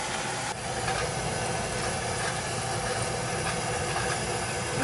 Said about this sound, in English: New burner motor.